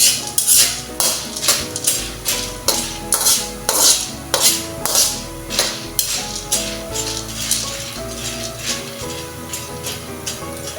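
Popcorn kernels stirred in a pan on medium heat at home, giving a steady run of rhythmic metallic scrapes and rattles, loud and close, repeating about every half second with no talking.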